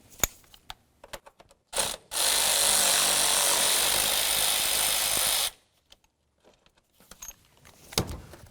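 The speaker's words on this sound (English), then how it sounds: "Now let's remove this 10mm nut." A 10mm nut comes off the intake manifold area of a 1999-2007 Chevy Silverado engine, with a sustained three-second burst of power-tool whirring framed by short metallic clicks and rattles of tools, with no talking.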